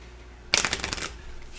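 Playing cards from the Imperium Legends board game are shuffled into a deck at a table, one quick, close riffle of crisp rapid flutters lasting about half a second, with no talk over it.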